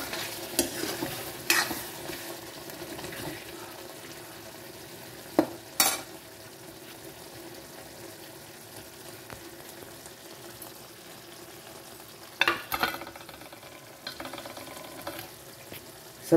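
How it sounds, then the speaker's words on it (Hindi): Garam masala is stirred into a paneer do pyaza sabzi in a pan, with a low, steady sizzle broken by several sharp scraping strokes of a spoon, spread out and occasionally clustered. "डाल के चलाइए, गरम मसाले को मिक्स कर लीजिए।"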